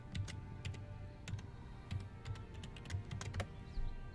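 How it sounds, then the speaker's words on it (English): Rapid clicking of computer keyboard keys typing in short bursts, close and fairly quiet, over a steady low hum with no voices. "Can y'all hear my password for my typing?"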